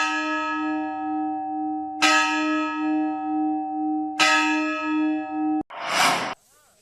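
Loud church-style bell struck three times over a loudspeaker, each clang ringing with a long sustained hum and decaying overtones before the next strike, ending in a short burst of noisy static.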